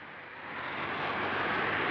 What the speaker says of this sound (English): And we have engine ignition.